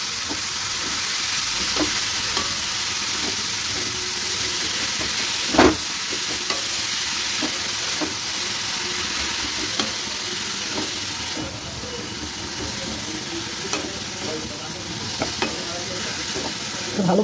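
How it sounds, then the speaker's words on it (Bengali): Radish frying in a pan of spiced oil is stirred, producing a constant sizzle punctuated by repeated spoon scrapes and knocks, one louder clank near the middle. "দিয়ে এটাকে নেড়ে নেবো।"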